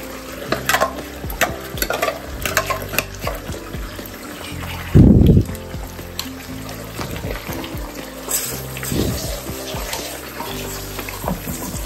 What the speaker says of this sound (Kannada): ಈರುಳ್ಳಿ, ಟೊಮೆಟೊ, ಬೆಳ್ಳುಳ್ಳಿ, ಶುಂಠಿ ಎಲ್ಲ ಹಾಕಿ ರುಬ್ಬಿರೋ ಮಸಾಲ ಇದನ್ನು ಆ್ಯಡ್ ಮಾಡ್ಕೊತೀನಿ